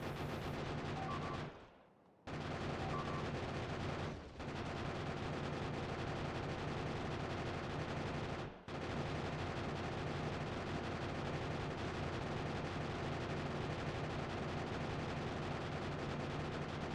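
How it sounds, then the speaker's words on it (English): Steady, dense rattle of uranium ammunition firing in a Factorio-style game, a continuous loud barrage broken by a few brief gaps. "I don't actually know if my uranium bullets are contributing much."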